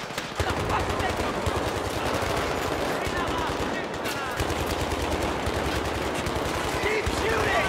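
Sustained Battlefield 3 gunfire in a military combat mission, dense machine-gun bursts and rapid shots firing continuously and loudly from start to finish, with faint shouted voices mixed beneath the barrage.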